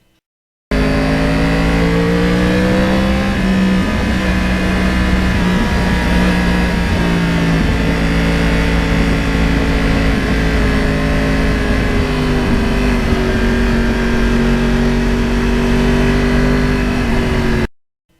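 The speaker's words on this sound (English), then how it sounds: "the old R1 just loves cruising up and down these roads" A Yamaha R1 crossplane motorcycle riding along back roads, its engine droning loud and continuous with rising and falling pitch as the rider works through the gears, close and without talk.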